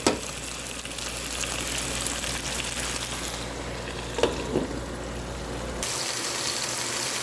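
Chicken pieces sizzling in a deep pot while browning for homemade broth, a continuous moderate hiss with a low hum underneath and a brief clatter midway before the sizzle drops in tone.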